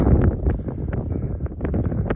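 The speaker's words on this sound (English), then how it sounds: "Well, it's a little bit windy" Steady wind buffeting the microphone on an open Appalachian mountain bald, a constant rushing roar with gusty swells throughout.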